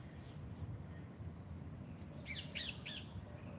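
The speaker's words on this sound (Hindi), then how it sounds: "पक्षियों की मधुर आवाज़।" Birds outdoors on a cool, breezy morning under an open sky let out three quick, sharp squawking calls in a tight cluster, rising above a steady low wash of wind and ambient noise.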